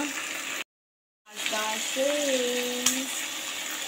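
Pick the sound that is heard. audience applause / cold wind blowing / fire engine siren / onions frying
onions frying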